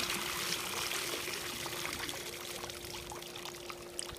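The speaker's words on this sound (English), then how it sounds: "I like to dump out the water," Water pours out of a pool robot cleaner in a steady, continuous stream that stays fairly quiet and close for the whole stretch, with no voices.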